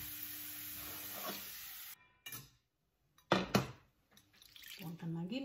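Garlic fries in hot oil for Balinese sambal embe, giving a steady close sizzle for about two seconds before it cuts out, followed by scattered stirring and clattering noises.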